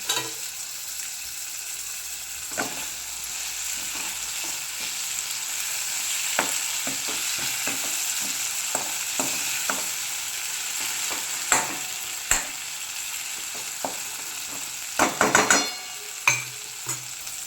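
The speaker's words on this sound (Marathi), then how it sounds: "आता मी चिरून घेतलेले वांगे ह्याच्यात घालते" Chopped brinjal frying in spice masala in a pan for a quick Maharashtrian vangyachi bhaji, a steady broadband sizzle with scattered scraping clicks of a spoon stirring, a few sharper knocks near the end, no talking.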